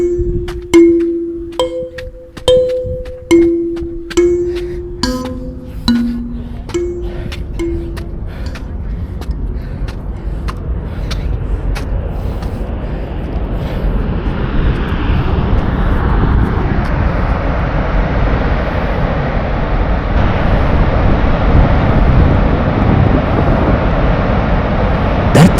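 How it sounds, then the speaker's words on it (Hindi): Volcanic gases vent at high pressure from the ground in Indonesia. A few metallic dings ring out first, then a steady jet-engine roar builds and holds, dense and loud. "धरती के अंदर से हाई प्रेशर से निकलती गैसेस की आवाज किसी जेट इंजन जैसी सुनाई देती है।"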